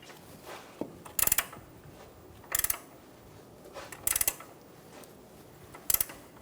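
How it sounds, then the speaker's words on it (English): An 18mm wrench snugs down the upper ball joint nut on a 2014-2018 Chevrolet Silverado control arm, giving four short, evenly spaced bursts of close ratcheting clicks with quiet pauses between them. "Using an 18mm wrench, snug down the upper ball joint nut."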